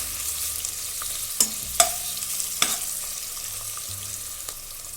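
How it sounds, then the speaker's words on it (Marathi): Finely chopped onion sautés in a pan for a red lentil masoor pulao, a soft steady sizzle near at hand punctuated by a few sharp spatula clicks and scrapes. "बारीक चिरलेला कांदा हा छान लालसर असा परतून घ्यायचा आहे"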